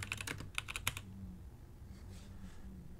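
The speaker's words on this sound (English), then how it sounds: "you can simply just type it in." Rapid typing on a computer keyboard, a quick burst of close, crisp key clicks in the first second, then quiet room tone.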